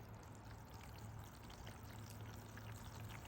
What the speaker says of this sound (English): We're going to put water in the bottom of it.